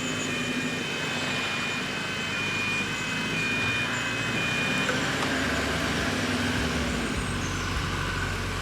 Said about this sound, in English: And across comes the traffic.